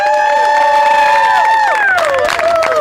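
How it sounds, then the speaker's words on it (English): A studio audience cheers and whoops loudly at a reward challenge event, with sustained voices and high shouts filling the whole clip, growing busier with scattered yells and clapping toward the end. "I think our audience is going to give them a nice big cheer"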